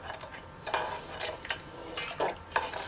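A spoon stirs two litres of water in a cooking pot, making quiet scraping and clinking strokes against the metal every half second or so, close by and soft, with no voices.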